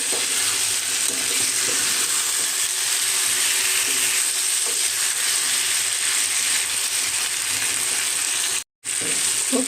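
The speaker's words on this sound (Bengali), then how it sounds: "খুব সুন্দর করে আমি এটা ভাজা ভাজা করে নিলাম।" Ridge gourd frying in oil in a pan while being stirred, a steady close sizzle that runs without a break, with faint scrapes and clicks from the stirring and one brief dropout near the end.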